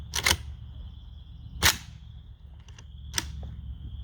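AK-pattern rifle (Zastava PAP M90 fed from a Galil magazine) being handled at an outdoor range: three sharp metallic clacks spaced over a few seconds, close and loud, against a low ambient rumble.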